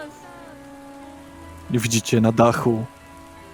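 Steady rain sound effect patters beneath a tabletop fantasy RPG session, with a player's voice speaking over it partway through.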